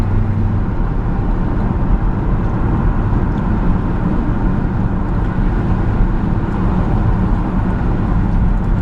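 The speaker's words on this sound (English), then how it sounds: "I'm going to take it for a drive and show you around the truck." A 1945 Ford half-ton pickup on an S10 frame with independent front suspension cruising down a road, giving a steady broadband rumble of engine and road noise that stays constant and fairly loud throughout, with no talk.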